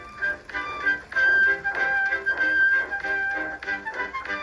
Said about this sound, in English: You're doing well, whistled Edward, as James slowly struggled up the hill